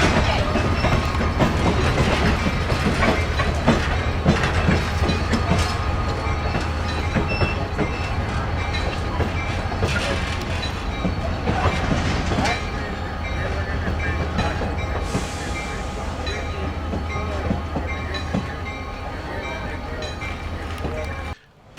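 A Metrolink train passes on the rails, a steady rumble with clickety-clack wheel noise and a low engine drone throughout, fading slightly toward the end.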